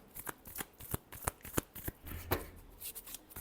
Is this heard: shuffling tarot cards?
yes